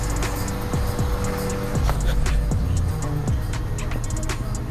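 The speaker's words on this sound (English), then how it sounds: "I don't know if you guys heard that right now, but it is bogged right now." A car engine idling low and bogging, a steady close rumble with faint ticking over it and no talk.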